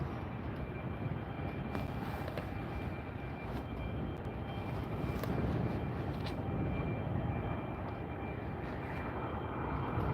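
A Delta airliner landing at LAX, heard from near the runway as a loud, steady roar of jet engines with broadband rumble holding throughout, no voices present.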